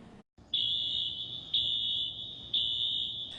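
A condominium building fire alarm blares in three long, piercing high-pitched pulses, each about a second, steady and loud over a faint background hum.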